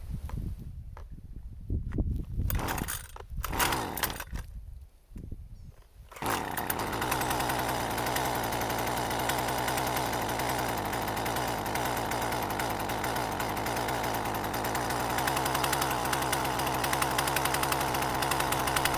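A curbside-found Husqvarna 128CD two-stroke trimmer gets a few uneven pulls and sputters, then catches and runs at a loud, rough, steady buzz that holds for the rest of the stretch.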